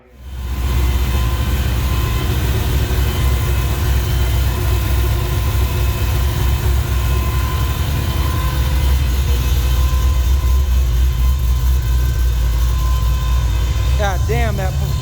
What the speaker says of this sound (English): that fuel pump is loud.